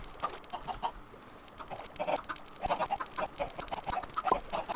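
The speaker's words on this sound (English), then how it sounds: "so that means there's at least 60 chickens" A flock of roughly sixty chickens in the video game Drugcraft, clucking and squawking in a busy overlapping chorus with scattered sharper clucks, fairly close and with no talk.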